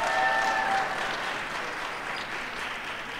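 A graduation commencement audience at Pine Forge Academy applauds, a dense sustained clapping from a large crowd that swells at first and then holds steady, with a couple of faint whistles.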